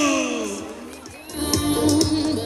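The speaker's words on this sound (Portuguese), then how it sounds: "Palmas a Carol." A rodeo grandstand crowd cheers and claps for a girl rider in a barrel race, a far, washy roar that swells in the second half, with an announcer's voice over it.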